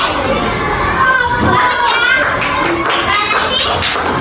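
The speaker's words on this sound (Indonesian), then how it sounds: "tahu nggak lagu kalau suka hati tepuk tangan?" Elementary school children clap their hands along to the song 'Kalau Suka Hati Tepuk Tangan', a loud, busy mix of clapping and children's voices singing and shouting together.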